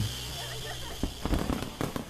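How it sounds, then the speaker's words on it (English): Fireworks pop and crackle in several sharp bursts over a murmuring outdoor background at a punk show in a skate park. "Fireworks too? Are you kidding me?"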